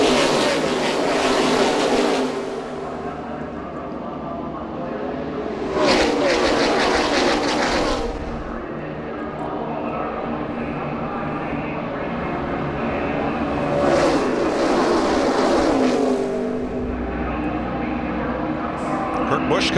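NASCAR stock cars roaring through a restart at the 2011 Gatorade Duel, engine noise swelling loudly twice as packs pass close by, with a steady track drone and race commentary over it.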